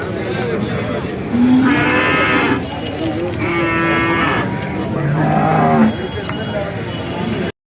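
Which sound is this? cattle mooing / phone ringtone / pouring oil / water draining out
cattle mooing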